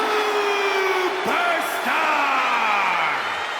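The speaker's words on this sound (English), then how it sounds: "It's great to hear the crowd give this superstar the reception he deserves" Arena crowd in the WWE 2K25 video game roars and whoops for a wrestler's entrance, a continuous dense wall of cheering with rising and falling yells throughout, loud and sustained.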